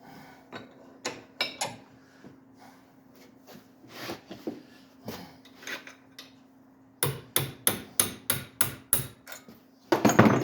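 A hammer strikes a small punch on a workpiece held in a vise, first in scattered sharp metallic taps, then in a quick, evenly spaced run of about eight loud strikes, with a final heavier blow at the end.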